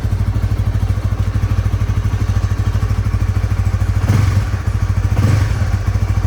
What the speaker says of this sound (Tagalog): Anyway, buhayin natin yung kanyang engine.